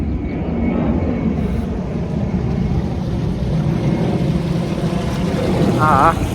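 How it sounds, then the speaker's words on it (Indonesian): An airplane circles overhead in Japan, its engine roar a loud, steady rumble filling the scene while someone talks over it. "pesawat malah makin deket lagi kesini muternya"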